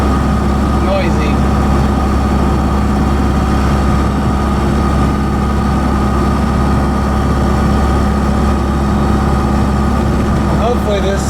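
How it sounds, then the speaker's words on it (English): A 4BT Cummins diesel swapped into a Ford F150 runs steadily with a deep, constant low rumble, and a faint turbo intake whistle rides above it for the whole stretch without any break. "I only hear the whistle from the intake"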